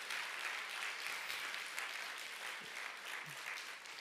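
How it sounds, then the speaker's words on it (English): A preschool graduation audience claps steadily in a big round of applause, a dense even wash of hands sustained throughout at moderate distance. "Let's give a big round of applause to Miss Amy Bollinger for putting that video together."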